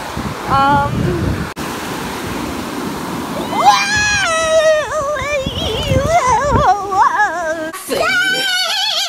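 Surf washing onto a cool shore sends a steady broad rush under the whole scene, with shrill seagull-like calls and some voice-like harmonic squeals rising over it in the middle and at the end.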